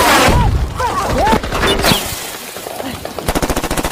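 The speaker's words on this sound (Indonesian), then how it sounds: "satu anak buah si ketua yang bernama Ski pun terkena tembakan" Gunfire in an action film about a special forces unit, heard as rapid bursts of automatic fire with a dense run of regular shots near the end, over a busy soundtrack with brief speech.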